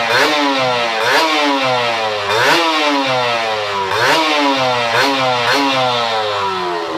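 Kawasaki Ninja SS two-stroke motorcycle engine, running wet on fresh two-stroke oil, revving hard in repeated rising blips that fall back between them, loud and close with no talking.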